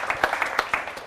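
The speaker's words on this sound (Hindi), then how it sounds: "एक बार जोरदार तालियां हो" Scattered claps from an audience at a poetry gathering, a sparse, uneven run of sharp individual hand claps over a brief second, moderately close.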